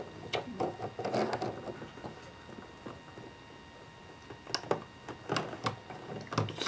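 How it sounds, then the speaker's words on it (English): A sewing machine stitching a test buttonhole on fabric for a pair of shorts, giving quiet bursts of rapid stitching separated by short pauses, heard close and alone. "I'm going to do a test buttonhole"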